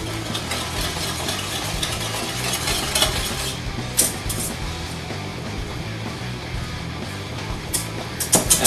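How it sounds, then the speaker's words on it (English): A pot of soup rolls at a boil with a busy, crackling bubble and sizzle throughout, joined by a few sharp clinks of utensils against cookware near the end. "Soup is at a boil."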